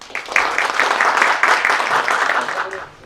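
An audience at a seminar on inter-Korean cooperation against the climate crisis gives a round of applause: dense, even clapping from many hands that holds steady for about three seconds before tapering off.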